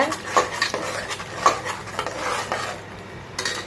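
Ground paste being mixed into rasam rice in a pressure cooker: a metal spoon scrapes and clinks against the pot in steady repeated strokes, close and fairly loud, with a light sizzle underneath.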